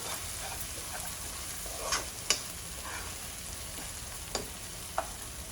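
Turmeric stirred into frying bitter gourd and gongura chutney, a steady low sizzle under a few scattered spoon scrapes and sharp clicks against the pan, close and quiet, no voices.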